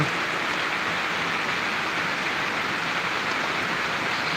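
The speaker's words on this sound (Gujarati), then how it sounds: "આજે પરવડી ગામના આંગણે ધોધમાર વરસાદ પડી રહ્યો" Heavy downpour pours over farm fields in Parvadi village, a dense, steady broadband roar of rain with no breaks, loud and close throughout.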